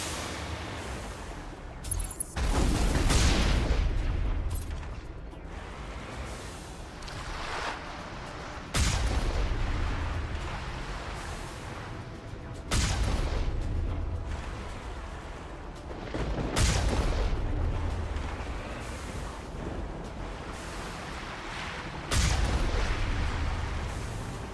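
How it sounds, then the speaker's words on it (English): Heavy artillery fire booms in the Mass Effect video game, with a series of loud, deep blasts arriving every few seconds over a continuous rumbling battle background. "We must find a way to disable their artillery."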